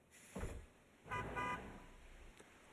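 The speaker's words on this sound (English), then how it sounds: "Honk honk." A car horn honks in the video game Natsu-Mon, two short blasts about half a second apart, moderately loud and heard alone without talk.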